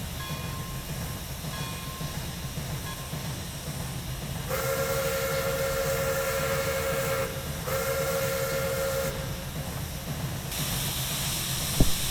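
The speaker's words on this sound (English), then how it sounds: "The chuff sounds need work though, I think." A Pere Marquette N-1 2-8-4 Berkshire steam locomotive in Train Simulator Classic hisses steadily while a steam whistle blows two long, sustained blasts midway, over a low rumble with no speech.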